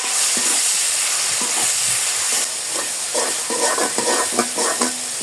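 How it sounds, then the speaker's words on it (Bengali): Bay leaf, five-spice, chopped onion and salt sauté in a hot pan, a loud continuous sizzle with the clink and scrape of a stirring spoon growing busier toward the end, close and without speech. "ভালো করে কষিয়ে নেব"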